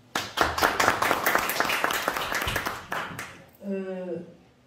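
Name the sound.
audience applause at a conference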